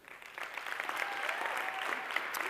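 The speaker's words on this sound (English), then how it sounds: "So big round of applause for the organizers." A crowd at a community event applauds the organizers, steady dense clapping that builds quickly and holds at an even level throughout, heard from within the room.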